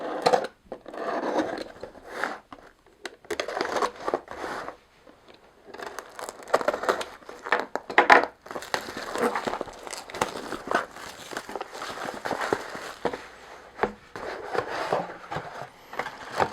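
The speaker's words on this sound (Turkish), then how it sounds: "Önce paketimizi açalım." Packaging is opened for an animation film machine kit with wooden plates and electronics, close crinkling plastic, rustling paper and tearing sounds in irregular bursts with brief pauses between.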